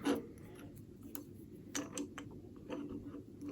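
A drill chuck is loosened anti-clockwise by hand, giving a series of soft ratcheting clicks and scraping creaks, close by and fairly quiet.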